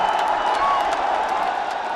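A large outdoor crowd at the Ayodhya Deepotsav applauds and cheers the Prime Minister's arrival, a steady wash of clapping and voices with no pauses.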